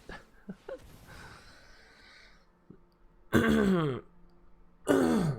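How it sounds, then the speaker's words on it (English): Someone coughing and clearing their throat indoors, two loud harsh bursts of coughing after a few softer throat-clearing sounds and breaths, close to the microphone. "Excuse me for all the coughs as well."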